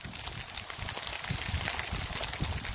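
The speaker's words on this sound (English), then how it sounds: "it is raining, pouring, cats and dogs" Heavy, windy rain pours down in San Diego, a dense, steady hiss of drops drumming on surfaces without a break.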